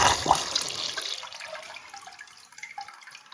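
A Black Beauty toilet with a high tank flushes a load of marbles, a loud rushing surge of water that drains quickly, then trickles and gurgles faintly as it empties.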